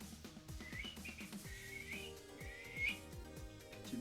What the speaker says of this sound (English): 口笛。口笛。